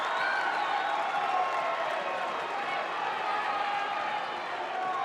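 A home crowd at a girls' high school basketball sectional championship roars in a steady, dense wash of cheering and applause that fills the whole stretch.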